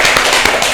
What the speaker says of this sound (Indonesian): kasih tepuk tangan yuk